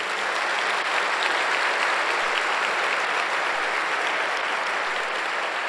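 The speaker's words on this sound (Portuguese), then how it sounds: "Dá um aplauso ao Senhor." Church congregation at a Sunday service clapping for the Lord, a dense, even wash of applause sustained at full strength from start to finish.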